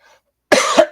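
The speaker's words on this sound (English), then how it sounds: "Anytime you hear me cough, I'm sorry." Two sharp, loud coughs close to the microphone, the first a longer burst and the second a brief one, following a short moment of near silence.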